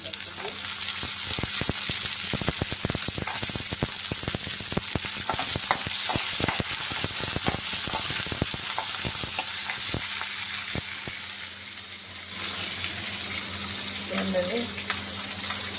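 Curry leaves fry in hot oil in a pan while a cucumber, drumstick and tomato curry is being made, a continuous close hiss of sizzling with crackling pops and a few clinks of the utensil.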